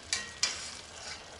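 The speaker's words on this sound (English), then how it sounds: "We're about halfway done here with browning this ground beef" Ground beef browns in a pan with a soft, even sizzle, broken near the start by two quick clinks of a utensil against the pan.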